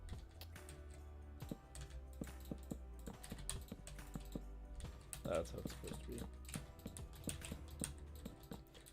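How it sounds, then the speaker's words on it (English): Computer keyboard clatters in irregular bursts of key clicks throughout, moderately close, while a person talks over it and a low steady background hum runs underneath. "you can hear my keyboard in the background"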